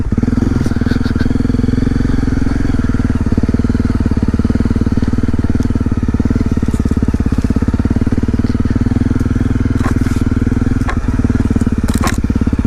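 A vehicle drives a rough fire road, with a loud, steady engine drone and crunching, rattling gravel close by throughout, plus occasional sharp knocks from bumps.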